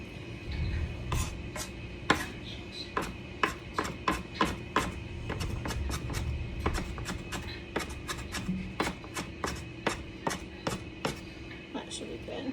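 A knife finely mincing onion on a cutting board for sweet hush puppies, with quick irregular chops that settle into a brisk, close, fairly even rhythm, under a low background hum.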